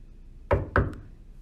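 Two firm knocks on a student's dorm room door, close and crisp with a short gap between them, alone in an otherwise quiet setting.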